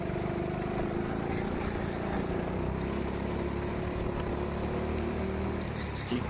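Go-kart engines drone steadily at an indoor kart track, a continuous mid-level hum that stays the same throughout with no clear revving peaks.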